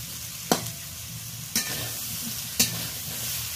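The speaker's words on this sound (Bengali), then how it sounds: "আলু বেগুন আর চিংড়ি মাছ একসাথে ভালো করে কষিয়ে নিলাম।" Potato, eggplant and shrimp sauté together in a pan with a steady low sizzle, broken by three sharp spatula scrapes about a second apart, close and fairly quiet.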